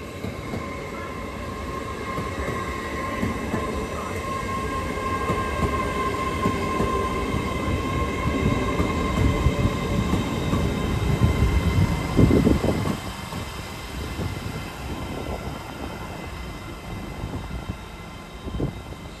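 Express passenger train departing Durham station for Newcastle, a steady rumbling roar of engine and wheels on rail with tonal whine, fairly close and building slightly before easing off, no talk.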